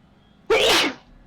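One sharp human sneeze bursts in about half a second, loud and close, after a quiet room hush.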